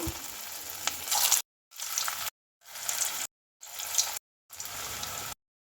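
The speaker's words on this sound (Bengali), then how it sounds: "সব কোপ্তাগুলোই একসাথে আমি ভেজে নেব" Kohlrabi koftas frying together in hot mustard oil in a wok on a gas stove, a loud steady sizzle in several bursts separated by brief silent gaps, with no talking.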